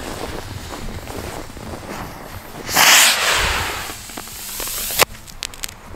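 Outdoors in snow and heavy wind, a Tomahawk firework rocket fixed to a model plane ignites with a loud rushing whoosh that fades, then a single sharp bang cracks out.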